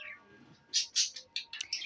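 Birds chirping in the horror video game Granny, a few bright, short tweets in quick succession over a quiet background, fairly close and without talk.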